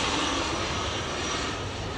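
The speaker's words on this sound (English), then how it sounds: "oh, there's a big jet flying." Big jet airplane passing overhead near a yacht, a steady broad engine roar that fills the whole stretch and fades slightly toward the end, with no voices.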